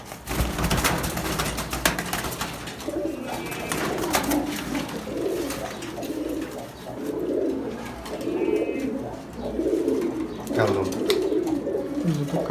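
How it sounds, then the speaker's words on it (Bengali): Pigeons coo in a loft on a family pigeon farm, with repeated low rolling coos rising and falling in waves. Someone talks over them throughout, and a few faint chirps come through. "তো আরও কিছু কবুতর আছে সেগুলো দেখো।"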